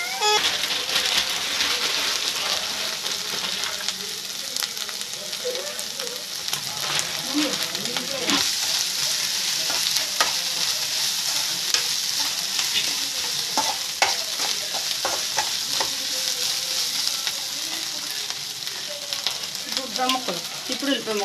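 Shrimp and eggplant curry frying in oil, a continuous crackling sizzle broken by frequent scraping and clacking stirring strokes, with faint speech at moments.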